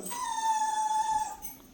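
A single drawn-out dog whine or howl, a steady high tone held for over a second before trailing off, fairly close and alone.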